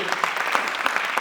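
An audience at a Hindi poetry gathering (kavi sammelan) during a Hindi fortnight event at NTPC Kawas claps in a short, dense, even burst of applause.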